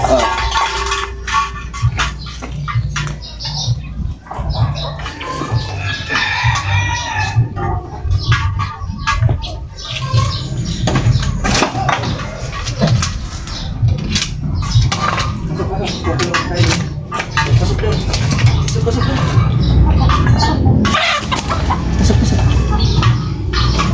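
Chickens clucking close by amid steady background noise and some voices, with busy, irregular clatter throughout.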